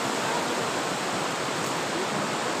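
Steady, dense rush of a waterfall in a valley, loud and broad with no break or change, like continuous falling water close by.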